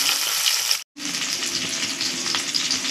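Parshe fish frying in hot oil for a mustard-paste jhal, a bright continuous sizzle and crackle with one abrupt cut to silence about a second in before the frying resumes at the same level.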